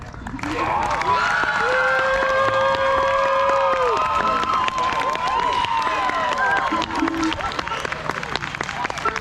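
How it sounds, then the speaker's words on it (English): Concert audience applause and cheering at a bluegrass show, calling for an encore, continuous clapping with shouts, mixed with music tones. "in order to get an encore, you have to clap like crazy for just a little bit"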